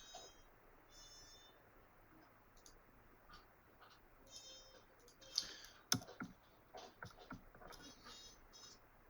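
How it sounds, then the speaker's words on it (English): Numbers are typed into a spreadsheet on a computer keyboard, producing sparse, quiet key clicks in irregular short bursts that grow a little denser toward the end, heard close against a faint room background. "I just typed them in"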